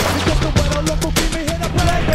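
Rapid bursts of video game gunfire from a Saints Row trailer crackle in quick succession, loud and close, layered with music and voices.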